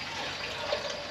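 A garden hose fills a homemade beer-keg gas tank with a faint, steady stream of water, brief and unbroken, with no talk.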